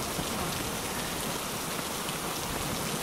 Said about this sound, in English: We wake up in freaking rain